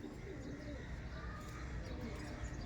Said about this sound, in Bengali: পুরো একদম গিরিবাজের মধ্যে ছোট্ট মাথার পায়রা